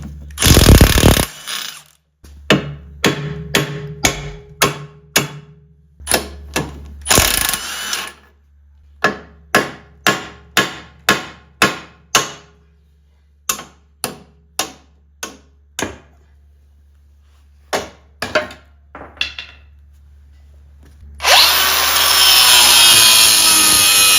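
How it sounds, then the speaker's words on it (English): A bracket is cut off a truck axle during a solid axle swap: loud, close bursts of harsh rasping metal cutting, repeated in short strokes with brief gaps, ending with a sustained high whining grind. "This bracket needs to be cut off right here because those are going to be in the way of stuff later on."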